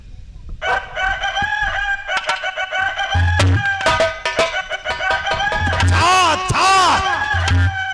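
A voice mimics a rooster's crow during a Ramlila stage performance, a loud drawn-out cock-a-doodle-doo with wavering pitch, repeated in stretches amid other sounds.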